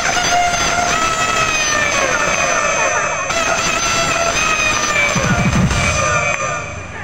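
A voice imitates the long crow of a 2.5 kg rooster: a loud, close, continuous tone that holds and bends for several seconds before fading.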